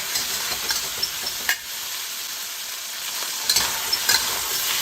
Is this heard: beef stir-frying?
yes